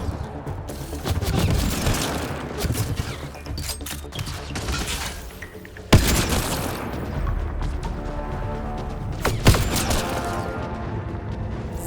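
Combat against Kett enemies in Mass Effect Andromeda, dense overlapping weapon fire and booming impacts, with a single sharp, loud shot cracking out midway and another later, all set against a continuous layered battle din.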